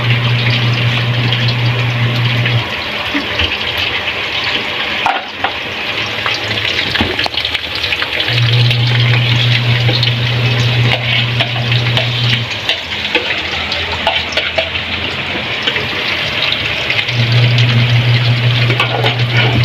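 Longganisa sausage frying in a pan on a stove: a loud, continuous sizzle and crackle that runs steadily throughout, with a low hum rising and falling underneath.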